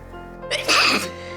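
A single sharp sneeze, a quick breathy inhale followed by a loud, close burst of air.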